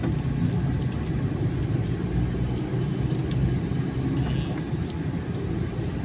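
Cabin of a Suzuki DA64V mini van on the move, a steady low engine and road drone that holds even throughout, close and moderately loud, with no voices.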